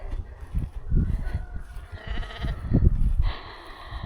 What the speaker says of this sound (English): Oh, we've got some Valais lambs.